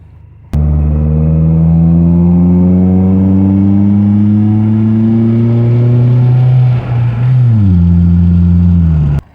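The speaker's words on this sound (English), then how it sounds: "there's like no road noise and just a little bit of a hum from the exhaust when you're driving" A Toyota Celica engine drones steadily and loud, the hum rising gradually in pitch as it pulls, with a brief dip and shift near the end like a gear change; no voices.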